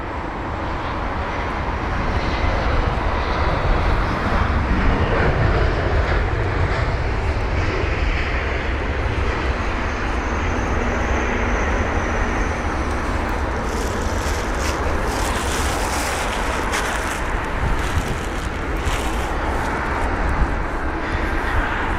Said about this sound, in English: this is BA 1499, the British Airways A320-200